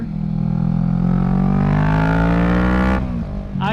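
A Kawasaki Z650 motorcycle fitted with a Yoshimura Alpha exhaust is ridden, its loud engine droning and rising steadily in pitch before an abrupt drop as the throttle eases, heard close up.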